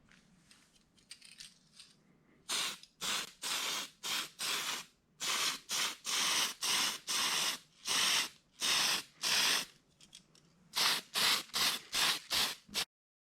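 An aerosol can sprays yellow paint onto RC car wheels for a Traxxas Bandit dirt oval build, a series of about fifteen short, loud, hissing bursts with brief gaps, after faint handling noises.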